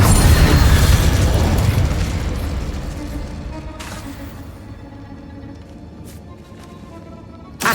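The Incendio fire spell is cast in Hogwarts Legacy, opening with a loud whooshing, rumbling burst that slowly fades into a softer crackle, followed by a small pop near the end.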